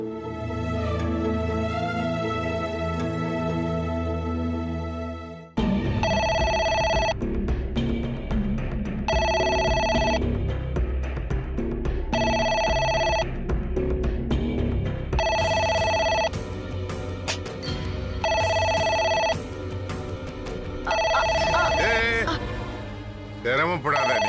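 A landline telephone rings in a domestic scene of a Tamil TV serial, its electronic ring repeating in regular bursts over background music and people talking.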